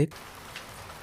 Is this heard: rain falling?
yes